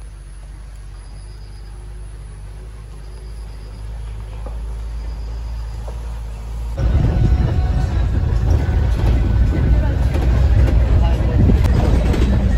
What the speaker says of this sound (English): I heard the sound of the bus.